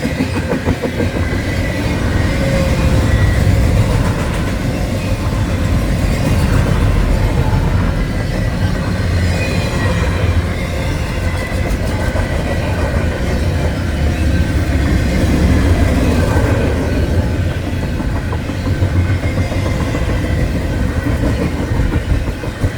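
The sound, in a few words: Norfolk Southern freight train passing with distributed power unit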